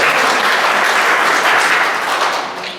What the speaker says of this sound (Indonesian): Tepuk tangan dulu buat SPBI.